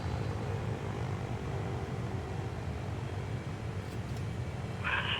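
Propeller airliner engine drone in the Transport Fever 2 video game as a plane comes in to land at an airport, a steady, fairly loud low roar that fills the whole stretch with little change.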